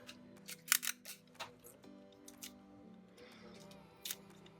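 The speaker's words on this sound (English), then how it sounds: "I'll apply just a bit of tape" Adhesive tape being pulled and pressed around a cracked 2016–2017 A1707 MacBook Pro 15 screen, several short sharp tearing rasps close by with quiet pauses, faint murmurs in between.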